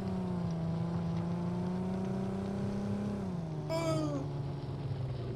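A steady, droning car engine in the video game Ring of Elysium hums throughout, its pitch dipping slightly partway through while a brief higher chirp cuts in.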